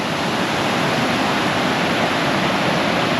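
Stephen Falls, a waterfall near Hot Springs, roars as a steady, loud wash of rushing water that fills the whole stretch without a break, with no voices.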